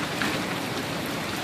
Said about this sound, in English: Golf ball size hail.